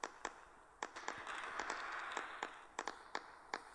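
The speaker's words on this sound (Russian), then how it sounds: "Купите самый мощный этот салют и все" Fireworks in the video game City Smash: scattered sharp pops and crackles burst at irregular intervals over a soft hissing background, fairly faint and distant.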